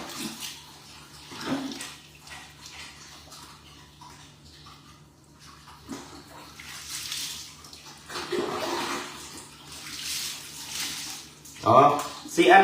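Water splashes and pours in scattered bursts while an animal is bathed, loudest near the end, with a person talking over the washing.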